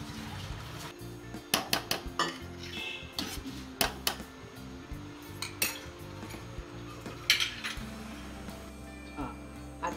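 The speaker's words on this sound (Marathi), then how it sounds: "थोडं झाकण लावून ठेवून घे." Steel pots, pan lids and utensils clink and clatter in a home kitchen while milk ladoos are made, with sharp irregular knocks and scrapes spread through the clip over a low background hum.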